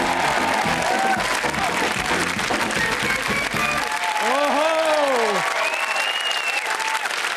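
Comedy club audience applauding and cheering a comedian, with loud continuous clapping and whoops filling the room, as a voice rises over the crowd midway with drawn-out exclamations.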